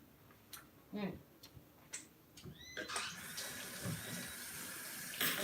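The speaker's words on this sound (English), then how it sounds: "Rinse our hands off." Hands are rinsed under a running kitchen tap, with a few soft handling clicks before the water gushes in and splashes steadily and close to the end.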